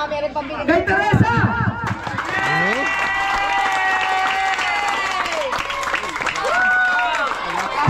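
An audience applauds a singer at a live performance, a steady wash of clapping and crowd noise lasting several seconds, with voices and cheering mixed in over the top.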